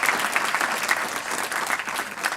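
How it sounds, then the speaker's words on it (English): Continuous applause from an audience at an annual memorial lecture, a moderately quiet, even wash of many hands clapping with slight swells and no speech over it. "So I think we deserve another round of applause here."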